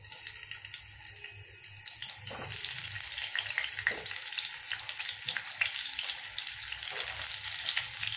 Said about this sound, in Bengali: তেলটা গরম হয়ে গেছে, এবারে উচ্ছেগুলো দিয়ে দিচ্ছি।